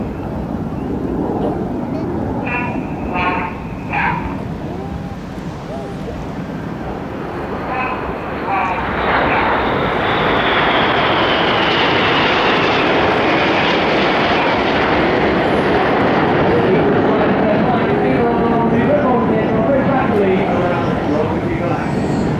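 Red Arrows jets roar overhead at an air display in Bournemouth as the synchro pair pull up, a loud rising and sustained engine rush that swells and fills the scene, with a commentator talking over it.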